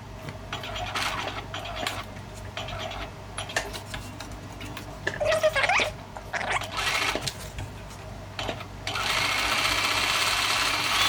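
A sewing machine stitches the side seam of a linen pullover top, running in steady bursts with a ticking mechanical rhythm, close and clear, with short pauses between runs and a longer, louder stretch at the end.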